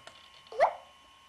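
Droplet alert from a Macintosh PowerBook 5300cs laptop: a single short watery blip, quiet and close, alone with no talk.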